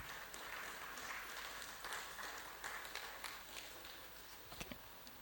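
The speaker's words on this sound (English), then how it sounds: "A round of applause for him." Audience applause at a medical and dental alumni gathering, a fairly quiet, distant wash of clapping that runs steadily across the whole stretch, with a few sharper individual claps standing out near the end.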